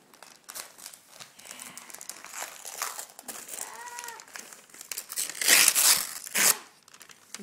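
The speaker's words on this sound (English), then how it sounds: "Can you rip it here?" Child at a birthday party ripping and crumpling gift wrapping paper, with repeated crinkles and tears building to loud bursts of tearing near the end, while a voice sounds faintly in between.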